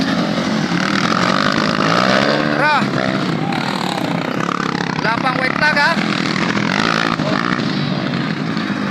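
Motorcycle engines drone and rev loudly and steadily during a barangay motorcycle race in Mainit, Davao de Oro. An excited commentator shouts over the engines throughout.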